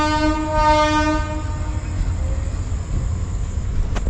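The Matsyagandha express sounds a loud, sustained horn blast as it departs the station, followed by the rumble and clatter of the moving train.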